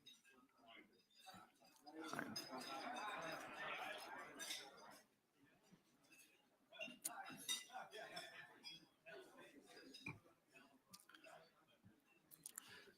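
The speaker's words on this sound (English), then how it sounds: "Let's raise a glass and say L'chaim all together." Wine glasses clink in a group toast at a gathering of Jewish leaders, many light chimes scattered over several seconds amid murmuring voices and chatter.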